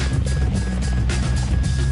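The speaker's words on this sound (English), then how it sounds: "the Marines are pinning their hopes on a radical new type of aircraft to carry out over-the-horizon missions, the V-22 Osprey" V-22 Osprey tiltrotor military aircraft of the US Marines, a steady, loud, continuous rotor and engine roar with deep low-frequency throbbing and a faint high whine, sounding close and uninterrupted throughout.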